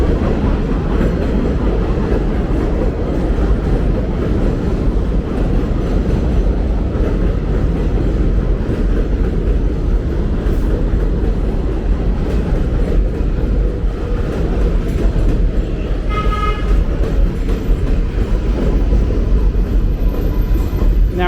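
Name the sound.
elevated 7 subway train passing overhead, Queens NYC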